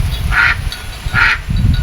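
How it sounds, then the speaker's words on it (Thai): Two loud, nasal duck quacks sound close by inside a duck coop, spaced about a second apart, over low rumbling and shuffling noise. "อันนี้ก็เป็นเล้าเป็ด"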